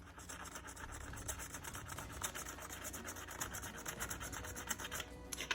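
A crayon rubbing back and forth across a paper plate, making a soft continuous scratchy rasp of quick strokes, faint and steady with no voices.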